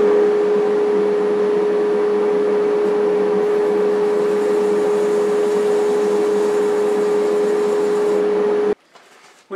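Shop vacuum running in a woodturning workshop, a loud steady whine with a constant tone that holds for about nine seconds and then abruptly cuts off.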